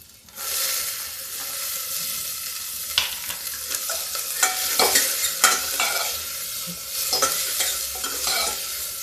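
Onions frying in a pan with green chilli, ginger and oil give a steady close sizzle and hiss, broken by scraping stirs and clinks of a spoon against the pan.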